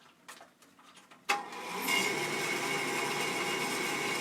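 After a few clicks and a sharp thump, a wood lathe motor spins up and settles into a loud, steady whirring hum.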